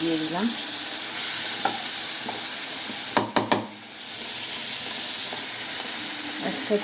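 A paste of ginger, cumin, green chili and onion fries in a pan with a dense, even hiss, interrupted midway by a quick burst of three sharp metallic knocks before the sizzle settles back.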